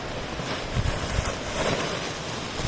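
Outdoor wind gusts buffet the microphone in a continuous low rumble, with brief swells, loud and close, no talking.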